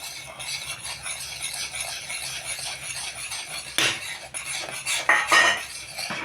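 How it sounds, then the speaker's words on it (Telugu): Gram flour stirred with a metal spoon into melted sugar syrup in a pan for Mysore pak, a steady scraping and clinking of utensil against pan close by, with a few sharper knocks near the end. "ఇప్పుడు మనం ఉండలు లేకుండా శనగపిండి కొంచెం కొంచెంగా వేసుకుంటూ కలిపేసుకుందాం."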